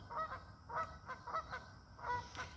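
Trumpeter swans in Ontario giving a series of honking, horn-like calls, several short blasts in an irregular rhythm, fairly faint and distant over a low background rumble.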